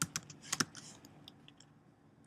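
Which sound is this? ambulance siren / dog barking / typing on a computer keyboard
typing on a computer keyboard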